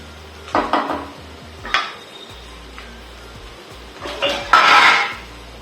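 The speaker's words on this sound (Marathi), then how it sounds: "झाकण ठेवू पाच मिनिटासाठी" A metal lid is set onto a pan of frying okra for masala bhindi, giving a few close clattering knocks and scrapes of cookware with quiet pauses between, and no voices.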